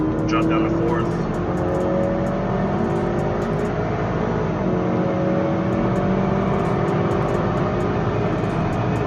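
A 2020 Honda Accord 2.0T in sport mode, dropped from 7th to 4th gear, accelerating hard from 60 to 125 from a highway cruise, engine note rising steadily and continuously with a droning whir throughout, heard from inside the cabin.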